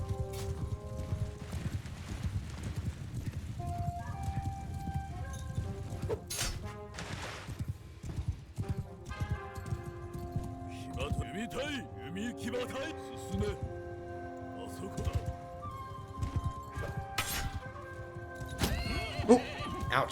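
Horse neighing and hoof clatter from battlefield action in the samurai strategy game Shokuho, with whinnies and hooves running through a dense mix of game music and combat noise for the whole stretch.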